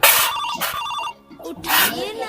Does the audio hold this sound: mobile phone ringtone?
yes